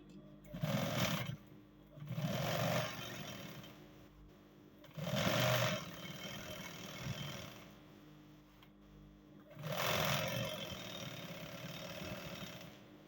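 A sewing machine top stitching cargo pants fabric runs in several short bursts of steady mechanical whirring, separated by brief pauses, fairly close and moderate in level.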